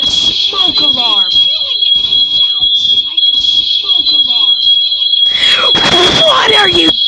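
A shrill, continuous smoke-alarm-like tone in the space simulation game Space Engine, loud and steady throughout while people talk excitedly over it.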